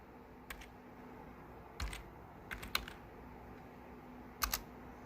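Commands typed on a computer keyboard while installing Windows 11 on an old Intel NUC i7 PC, a few short bursts of crisp key clicks separated by pauses, close but quiet.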